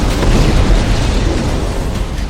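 Loud, sustained roaring blast from an exploding Israeli Merkava tank, a dense low-heavy rumble filling the whole moment without any voices.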